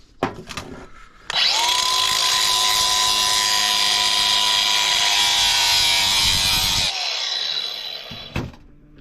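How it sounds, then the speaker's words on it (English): An angle grinder cuts through metal from an old squirrel cage motor, starting abruptly into a loud steady high-pitched whine with a grinding rasp, then spinning down and stopping near the end. "My grinder went right through it basically."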